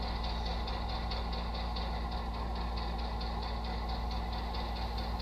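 A TCS WOW Sound Diesel 121 decoder in an HO model locomotive plays a diesel engine sound, a steady rumbling idle with a faint rhythmic pulse and no pauses.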